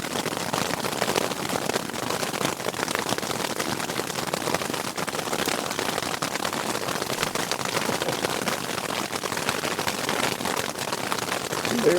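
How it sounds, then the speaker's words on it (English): Hail pelts a camping tent during an afternoon thunderstorm in the Sierra at Big Pine Lakes, a dense, steady rattle of countless small impacts up close that continues without a break. "And here comes the hail."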